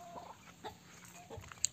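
An Aseel rooster in a coop giving a few faint, short clucks, quiet and scattered over low background noise.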